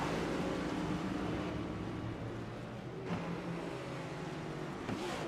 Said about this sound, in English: time to see the pace car roll off with the field in tow